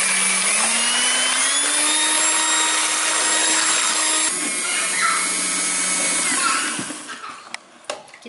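An electric mixer beats a batter of eggs, ovalette, sugar and milk powder with a steady, loud motor whine that shifts slightly in pitch, then winds down and stops near the end.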